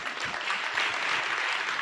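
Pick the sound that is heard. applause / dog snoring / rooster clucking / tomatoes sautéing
applause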